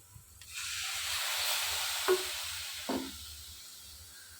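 Steady frying hiss of masala in a pan with a couple of scraping stirs of a spoon, close up, no voices.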